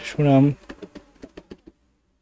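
A district name is typed on a computer keyboard: a brief voice, then a quick run of about eight light, crisp key clicks close by, ending in silence.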